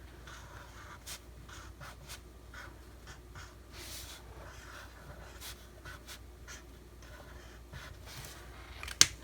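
A pen scratches steadily across the pages of a spiral notebook during a weekly planner setup, a soft continuous scribble with small bursts of strokes, ending on one sharp tap.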